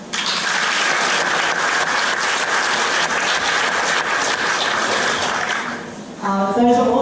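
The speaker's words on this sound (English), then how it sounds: "Can we give them one more big clap, please?" Loud, sustained applause from a school audience for graduating grade 6 students at a primary school graduation ceremony, a dense steady wash of clapping for about six seconds before it eases and a voice begins speaking over the fading claps.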